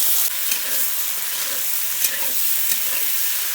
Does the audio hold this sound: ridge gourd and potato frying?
yes